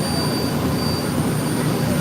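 The engine of the Liberty riverboat at Disney World's Magic Kingdom gives a steady, loud low rumble heard up close, with a voice talking briefly over it.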